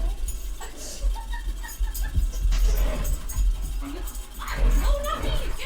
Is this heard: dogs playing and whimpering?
yes